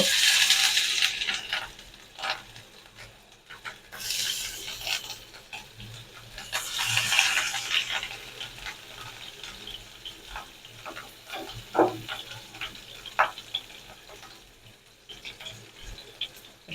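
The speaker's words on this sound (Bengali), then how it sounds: "হালকা করে ভেজে নিব" Rohu fish pieces fry in hot oil for a spicy fish curry, a steady sizzle with stirring and scraping bursts rising and falling, plus a few sharp clinks near the end.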